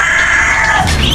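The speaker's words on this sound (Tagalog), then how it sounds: "sisiyo ng pato" Ducklings kept beside a house during the rainy season, peeping in a steady high-pitched chorus, near and continuous with no talk.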